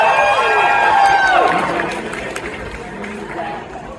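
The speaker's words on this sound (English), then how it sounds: "Don't cheer your own disrespect." An indoor audience at a Bruce Campbell live show in Dallas, Texas cheers and whoops loudly, with crowd noise swelling and then fading into murmuring chatter.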